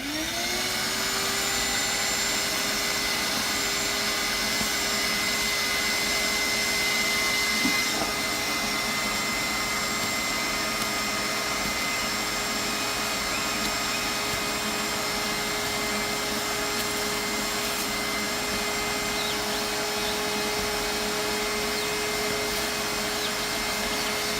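A vacuum motor whines steadily for a long stretch, a constant loud drone with a high tonal hum and no pauses.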